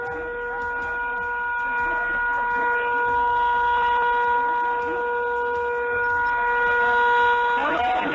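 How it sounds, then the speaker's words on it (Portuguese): A Fiat Palio car horn sounds as one sustained, steady blast that runs the whole time, while people talk urgently nearby at a roadside emergency scene. "Essa buzina é a buzina do palio"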